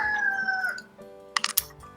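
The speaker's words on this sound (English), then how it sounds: "so you don't hear the roosters" A rooster crows near a home, one long drawn-out call that fades, then a few short sharp clicks or taps close by.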